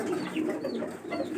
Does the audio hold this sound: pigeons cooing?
yes